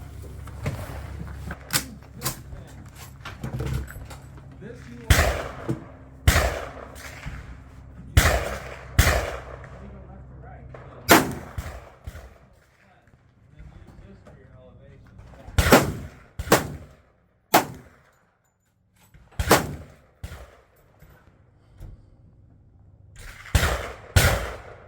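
A CMMG 10mm Banshee fires a dozen or so loud, sharp shots in irregular groups, each a hard crack with a brief decaying tail and short quiet gaps between.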